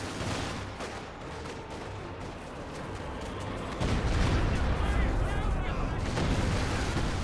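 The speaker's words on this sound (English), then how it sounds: "Now the concentration fire operation, which is the heavy siege artillery" A heavy siege artillery barrage in Company of Heroes 2 rumbles on as a dense rolling mix of distant booms and gunfire, growing louder and heavier midway through.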